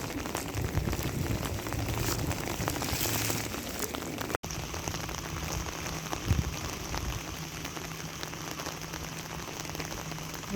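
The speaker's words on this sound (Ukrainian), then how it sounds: "такий періщий дощ" Heavy rain pours steadily in Rimini, drumming on surfaces with a dense, continuous patter and a few brief knocks; no voices.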